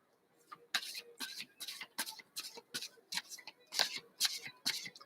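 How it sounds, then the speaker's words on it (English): Playing cards are shuffled in a quick series of crisp, riffling bursts, close and fairly quiet, repeating rhythmically about twice per second. "well, I've already started shuffling for you, Jane."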